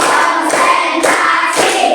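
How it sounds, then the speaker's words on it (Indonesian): A classroom of children claps hands together in a counted rhythm during an ice-breaking activity, several bright sharp clap bursts in quick succession, close and loud. "Tepuk tangan kita mulai dengan tepuk 1, tepuk 2, tepuk 3, tepuk 4"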